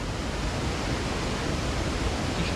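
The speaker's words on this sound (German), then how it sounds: "Gehen wir erstmal in den Wasserfall rein." A waterfall in Resident Evil 4 roars as a dense, steady wash of broadband noise, loud and unbroken throughout, with no voices over it.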